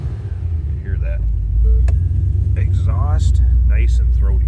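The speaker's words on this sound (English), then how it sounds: "Nice deep rumble to this one." A 2010 Ford Mustang GT V8 idles with a deep, steady exhaust rumble close by, and someone talks over it at intervals.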